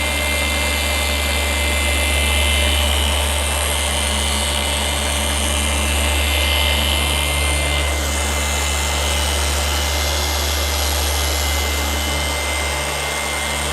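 A machine polisher spins on its backing plate while polishing the paint of a 2022 Ford F150 Platinum, giving a loud, steady whirring drone that holds unbroken throughout with no voices.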